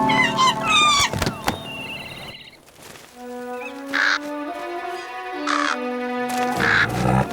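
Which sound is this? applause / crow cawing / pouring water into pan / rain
crow cawing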